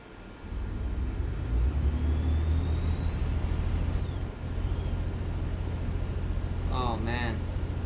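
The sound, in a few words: truck engine revving in American Truck Simulator video game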